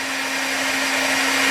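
A blow dryer heats the fan nut on a 1996 Chevy Tahoe during a water pump replacement, giving a steady, close, whirring hum with airy hiss throughout.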